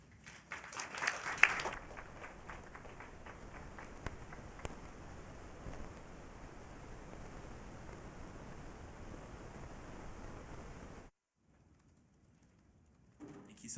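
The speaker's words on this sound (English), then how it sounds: "If we could get another round of applause for them, guys." Audience applause at the AMS March 2025 Assembly: a dense, steady wash of clapping hands that sustains for about eleven seconds and then cuts off abruptly, leaving near silence.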